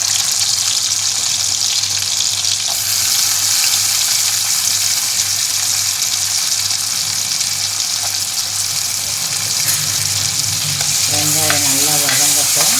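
Onions sizzle steadily in sesame oil in a pan for fish curry, a continuous close frying hiss with occasional stirring scrapes and no voices.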